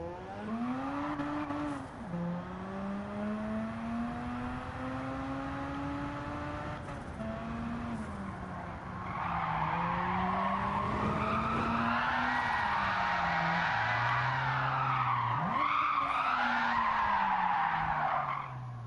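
Race cars run laps in the video game Gran Turismo 7, with a loud, sustained engine whine rising and falling through gear shifts and long stretches of screeching tire squeal through corners.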